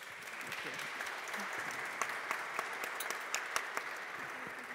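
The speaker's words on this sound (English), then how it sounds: "And a round of applause to the panelists." An audience applauding panelists at a talk: dense, even clapping with a few louder individual claps standing out, heard at a moderate distance in a hall.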